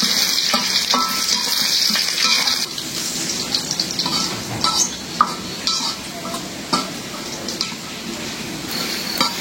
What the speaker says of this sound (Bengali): এই যে পেঁয়াজ রসুনটা একদম লাল করে ভেজে নিলাম